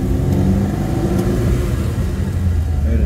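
A 1985 Lada 1200L engine revs hard and close, a loud, steady, throaty drone that holds high throughout without a break.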